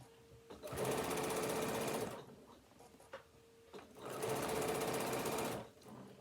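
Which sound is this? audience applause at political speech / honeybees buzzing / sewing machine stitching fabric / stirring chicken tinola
sewing machine stitching fabric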